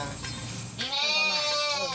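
Goats of a mixed breed bleat loudly and close by on a goat farm, giving several overlapping cries in quick succession with no talk.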